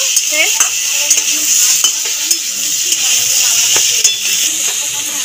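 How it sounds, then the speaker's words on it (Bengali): Grated ginger and tomato sautéing in a pan for a vegetarian pumpkin and potato curry: a steady sizzle with repeated scrapes and light clinks of a spoon stirring against metal, close and continuous. "আদা টমেটো দিয়ে ভালো করে একটুখানি কষিয়ে নিলাম"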